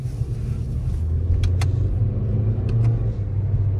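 A Toyota Corolla engine in sport mode hums steadily from inside the cabin as gears are changed with paddle shifters, a constant low drone with a couple of faint clicks, no talk.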